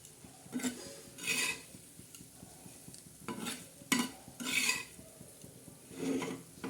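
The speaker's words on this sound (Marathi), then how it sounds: "आता अशी आपण खरपूस अशी भाजून घेणार" Flaxseeds dry-roasted and stirred in a pan for chutney, soft rhythmic scraping sweeps and light rattling of seeds in bursts, quiet and close with no talk.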